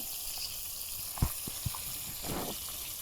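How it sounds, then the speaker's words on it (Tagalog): Soft, steady sizzle of fish frying in hot oil with a few brief clicks and pops, fairly quiet throughout. "nagpiprito na po sila"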